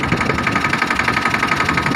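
A tractor engine idles steadily on a farm in Jamnagar district, a continuous mid-low mechanical rumble with a regular knocking pulse, close and fairly loud throughout, with no talking.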